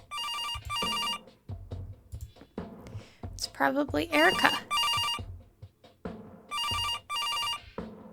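Telephone in the adventure game Kathy Rain rings in repeated bursts, loud and near, with pauses between rings; people talk in between the rings.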